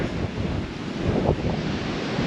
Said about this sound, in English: those waves look like killer waves